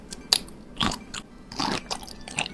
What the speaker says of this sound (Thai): มากินกุ้งแช่น้ำปลากัน